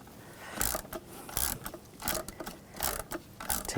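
Socket ratchet working a cam sensor bolt loose on the V8 engine of a 2006-2010 BMW 550i 4.8L, giving a series of close, quick ratcheting clicks in short repeated bursts with no voices.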